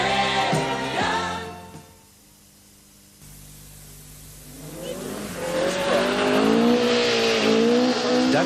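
A 1978 Datsun Stanza rally car passes with a loud, rising engine note and a brief squeal of tires, following a short quiet gap.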